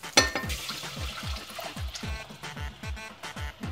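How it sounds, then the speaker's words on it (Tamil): Tomato water poured into a pot of rasam, a rapid series of splashing, gurgling pulses of liquid, close and fairly faint, with no voices. "இப்போ அந்த தக்காளி தண்ணி எடுத்து ஊற்றுங்க"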